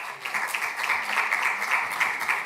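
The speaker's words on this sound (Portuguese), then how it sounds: "Uma salva de palmas, por favor." A conference audience in a hall applauds in a steady, moderately distant patter of many hands, even and sustained throughout with no voices over it.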